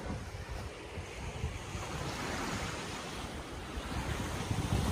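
Ocean waves washing onto a beach on Phu Quoc, Vietnam, a steady broad surf wash with gusting wind buffeting the microphone, rising slightly toward the end, no voices.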